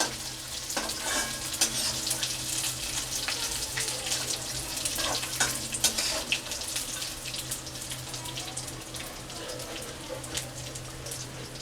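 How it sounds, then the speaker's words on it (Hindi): Onion and raw peanuts fry together in a pan over a low flame, giving a steady close sizzle with scattered stirring scrapes and clinks throughout, no talking. "जब तक मेरा कांदा पक रहा है इसी में मैं अपना सिंगदाना डाल देती हूँ"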